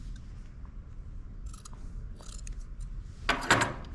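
Scissors cut through the fringe ends of a t-shirt, a few quiet snips and then a louder crisp double snip near the end, close with a low background hum.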